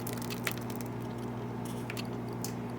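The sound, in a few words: flaxseed gel poured into a strainer over a bowl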